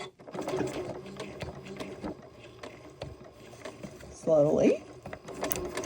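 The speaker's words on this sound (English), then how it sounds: "Needle down, and I am stitching forwards a few stitches." Janome sewing machine stitching forward a few stitches, its fast mechanical needle chatter steady and close, with a louder burst near the end as reverse engages; a voice speaks briefly over it.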